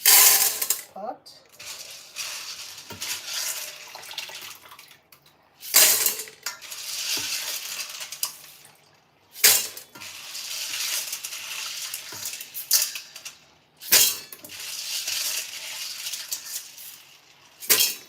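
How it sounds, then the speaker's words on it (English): Salted beans are tipped into a cooking pot in a few separate pours, each a brief rattling clatter against the pot, spaced several seconds apart with quieter handling noise between. "Now I'm gonna put the beans in the cooking pot"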